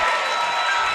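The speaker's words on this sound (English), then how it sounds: "You can hear the crowd. They wanted an offensive foul." A high-school basketball crowd roars and murmurs in a gym right after a foul call, a loud, dense wash of voices and clapping that holds steady for the whole moment.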